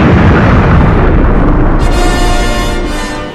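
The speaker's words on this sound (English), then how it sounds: "With a small tap on the screen, the player's vehicle will open fire." A starfighter firing its weapons while flying down the Death Star trench in the 2009 mobile game Star Wars Trench Run. A loud, roaring, sustained blast with a hissing burst partway through slowly fades out.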